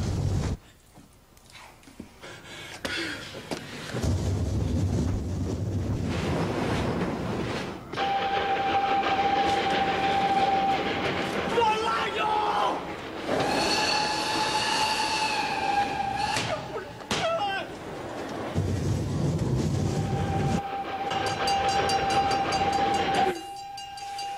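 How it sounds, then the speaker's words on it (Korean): A train runs along rails with a loud, continuous rumble and clatter of wagons, joined by long sustained horn or whistle tones partway through, heard without speech. "근데 그 와중에 기차는 계속 달려오고요."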